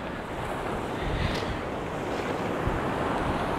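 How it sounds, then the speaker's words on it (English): Ocean waves breaking near Bogue Inlet fishing pier at Emerald Isle, North Carolina, a continuous rushing surf wash mixed with wind buffeting the microphone. "See the waves over here?"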